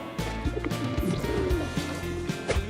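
Domestic pigeons cooing in a loft, a steady overlapping chorus of soft throaty coos from a large flock close by, with no talk.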